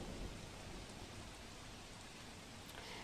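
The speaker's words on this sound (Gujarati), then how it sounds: "બનાસકાંઠામાં ધોધમાર વરસાદ થઈ રહ્યો છે" Heavy monsoon rain pours down in Banaskantha, a dense, steady hiss of downpour filling the scene evenly and continuously, with no voices over it.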